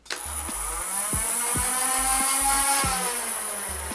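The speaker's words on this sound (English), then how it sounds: "the Vulcanator also just happens to rev up very fast" Dart Zone Vulcanator foam blaster, powered by six AA batteries, spins its flywheels up into a steady high-pitched whine that holds close and loud, with rhythmic mechanical clicks underneath.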